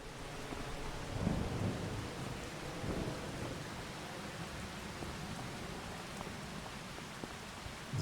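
Steady rain hisses in Farming Simulator 25, with low rolling thunder swelling near the start and again a moment later, then a constant wash of rainfall with occasional drop ticks, no voices.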